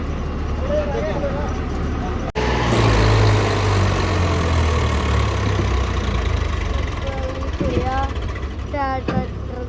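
A tractor engine idles and rumbles steadily at close range, with a brief cutout early on and faint voices later.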